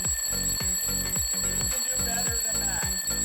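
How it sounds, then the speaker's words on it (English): A standard alarm clock ringing loudly and close, a harsh electronic beeping that pulses in fast, regular bursts about twice per second with steady tones layered on top. "I measured just how loud this standard alarm clock is"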